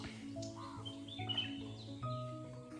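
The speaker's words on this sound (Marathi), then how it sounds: "आणि वेगवेगळ्या पक्ष्यांचा आवाज." Several birds, crows among them, chirp and caw together in a Konkan village, a busy overlapping chorus of calls at moderate distance with no talking.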